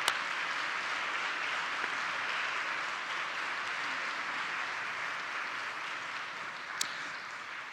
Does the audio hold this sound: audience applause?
yes